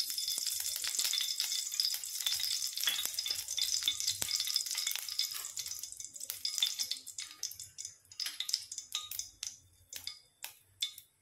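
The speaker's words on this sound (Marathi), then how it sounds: "कढई गरम झालेली आहे, तेल टाकते 1 चम्मच।" Oil sizzles and crackles in a hot kadhai, a loud bright frying hiss at first that thins into scattered pops and spits as it settles.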